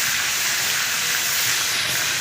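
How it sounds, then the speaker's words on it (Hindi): Hot tadka poured into a pot of mustard greens saag gives a loud, steady sizzling hiss that holds unbroken across the whole moment. "और जब हम इसको हांडी के अंदर डालेंगे तड़के को"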